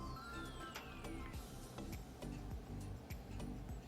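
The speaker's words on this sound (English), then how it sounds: "so I just use a inch-pound torque wrench" An inch-pound torque wrench tightens a plastic thermostat housing bolt on a car's cooling system, giving a run of quiet, regular ticks and clicks close by with faint workshop background.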